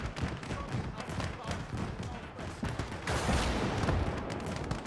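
Infantry gunfire in a WW2 real-time strategy game: a dense fusillade of rifle and machine-gun shots crackling and thumping without pause, swelling louder near the end.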